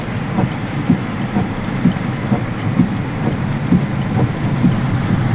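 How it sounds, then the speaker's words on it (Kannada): Heavy rain pours steadily near the mic, a dense, loud wash with gusty rumble and irregular soft thumps throughout, no voices. "ಮಳೆ ನೋಡ್ಬೋದು ನೀವು, ವಿಪರೀತವಾದ ಮಳೆ, ಜೋರು ಮಳೆ"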